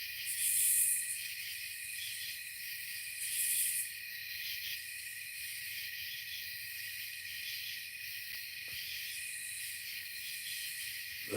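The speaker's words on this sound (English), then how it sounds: "I just figured I'd sit out here and capture the tree frogs and the crickets" Steady high-pitched trilling of crickets and tree frogs fills a quiet night, a continuous chorus with a couple of louder swells early on, no voices.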